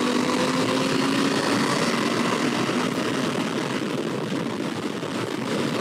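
A motorcycle engine drones loud and steady after the rider clicks into gear, with continuous wind and road rush over the whole stretch.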